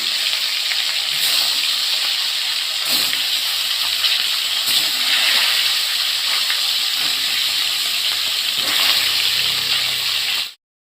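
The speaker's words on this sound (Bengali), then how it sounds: "কড়াইতে তেল গরম হয়ে গেছে এবার আমি মাছ দিয়ে দেবো" Tilapia rubbed with salt and turmeric fries in hot oil in a wok, giving a loud, continuous hiss that holds steady for about ten seconds and then cuts off abruptly.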